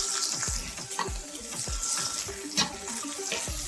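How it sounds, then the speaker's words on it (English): Black olive halves sizzle and sputter in a hot pan over medium heat, with steady frying hiss and repeated close stirring clinks and scrapes at an irregular rhythm. "Now we mix everything together and continue sauteing over medium heat."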